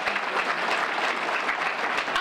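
An audience clapping its hands during a speech, a dense, loud, continuous burst of applause from a crowd that fills the whole short stretch with no pause.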